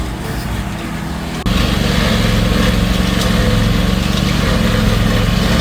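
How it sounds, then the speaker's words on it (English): A stump grinder works through large laurel stumps. The engine snarls steadily and close, jumping to a louder, harsher grinding roar after a second and a half and holding there. "starting to grind out the bigger laurel stumps using a stump grinder"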